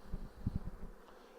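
Honey bees from a freshly caught swarm buzz in a few short, low bursts near the listener, faint and fading into quiet after about a second.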